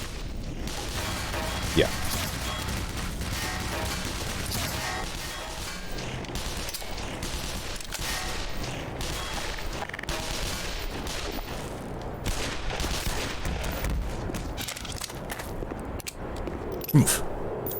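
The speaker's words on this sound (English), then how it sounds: "Alright, I think that's an auto turret." An auto turret in the video game Black Mesa fires sustained, dense volleys alongside crashing impacts and mechanical noise, loud and steady across the whole stretch, with a brief voice now and then.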